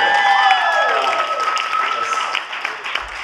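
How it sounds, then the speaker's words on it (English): Applause from wedding reception guests during toasts at a Waikiki hotel, sustained clapping over a loud mix with whistling or tonal sounds at the start that fade as clapping continues. "let's hear a round of applause for Kimmy."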